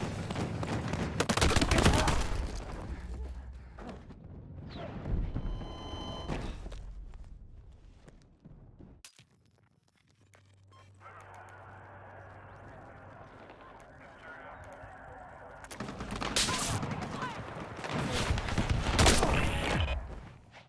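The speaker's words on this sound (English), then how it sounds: "Fatal sniper shot on the respawn." Sniper fire and other gunfire in the Battlefield 6 open beta, with loud gunfire and footsteps at the start and end and a quieter stretch in the middle, under ongoing talk.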